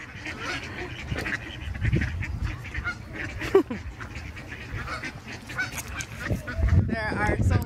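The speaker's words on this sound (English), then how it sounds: "There are so many ducks. They actually come up close to you." A crowd of geese and ducks honk and quack nearby in irregular bursts, with people's voices mixed in among the birds.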